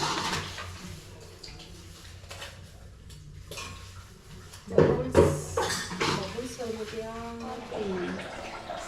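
Dishes clink and water runs in a kitchen sink, with a voice talking over the clatter.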